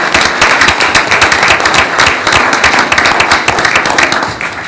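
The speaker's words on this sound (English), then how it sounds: "So give them a round of applause again." Loud, close applause at a city council meeting for a local basketball team, a crisp rapid patter of many hands clapping steadily throughout.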